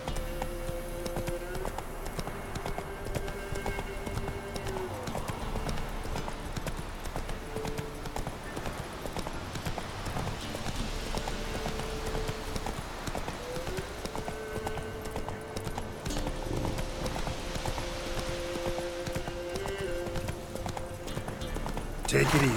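Horse galloping in the video game Witcher 3: Wild Hunt, with a steady rhythmic clip-clop of hooves throughout over continuous game ambience and a voice speaking now and then.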